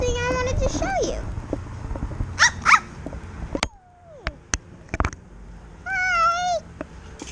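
At a car wash, a person imitates a dog or wolf with whiny, yelping cries and a wavering howl-like note near the end, mixed with other voices, clattering and pops.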